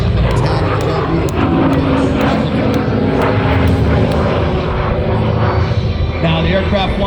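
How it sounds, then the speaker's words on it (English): A World War II–era propeller warbird passes overhead at an outdoor airshow, a loud steady engine drone filling the air while a commentator talks over it. "Now the aircraft flying overhead right."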